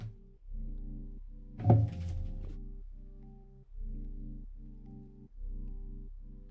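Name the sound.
cat bumping into microphone stand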